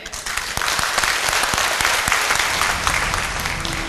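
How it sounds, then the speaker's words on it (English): Sustained applause from a workshop audience for a presenter fills the room steadily, dense and even at moderate loudness, with a few sharper individual claps standing out. "Let's give him a round of applause once again."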